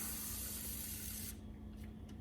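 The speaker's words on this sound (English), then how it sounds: "Just keep spraying, it'll get in there eventually." A steady pressurized hiss of an aerosol spray can on a 1968 Ford Mustang, continuous and close, cutting off abruptly partway through, leaving faint background noise.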